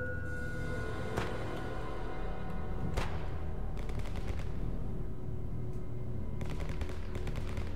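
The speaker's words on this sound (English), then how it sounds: "There's a lot of gunfire in this area at the moment." Gunfire from the shooter game Stalker Anomaly: several sharp distant shots and quick bursts of automatic fire crack out irregularly over a low ambient rumble, faint and somewhat far off.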